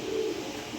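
Pigeon cooing from a prized Maxi pigeon pair, a single low throaty coo close by, with a soft murmur trailing off near the end.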